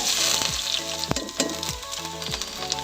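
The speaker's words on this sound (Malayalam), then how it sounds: "ഉരുളി ചൂടായി കഴിഞ്ഞപ്പം നല്ലെണ്ണ ഒഴിച്ചു കൊടുത്തു. എന്നിട്ട് ക്യാരറ്റും ബീട്രൂട്ടും കൂടെ ഇട്ട് കൊടുത്തു കേട്ടോ" Carrot and beetroot sizzle in sesame oil in a hot uruli, a steady close frying hiss broken by a few sharp scraping stirs, with no voices.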